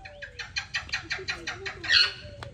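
Large birds, a big parrot among them, give a quick series of about nine harsh, evenly spaced calls, ending in a louder screech and a sharp click. The calls are close and clear over a quiet background.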